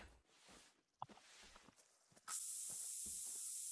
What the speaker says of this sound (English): Hit myself with heaps of spray here.